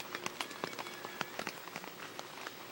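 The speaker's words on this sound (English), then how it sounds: "And it ain't helping, and here comes the rain." Rain falling on a tent roof outdoors, a busy pattern of sharp close drops and patters over a soft steady hiss.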